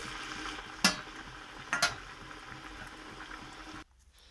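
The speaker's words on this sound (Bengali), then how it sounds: "আমি এইভাবে সব কটি মাছ আবারও ভেজে নিচ্ছি" Fish-shaped cabbage pithas frying in oil, giving a soft, even bubbling sizzle with two brief sharp clatters of utensils, then cutting to near silence at the end.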